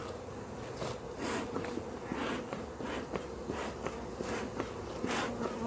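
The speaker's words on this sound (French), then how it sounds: "On voit que c'est une ruche qui est forte," Honeybees humming around a strong, busy beehive, a continuous close buzz with occasional louder passes of individual bees and small handling taps and rustles mixed in.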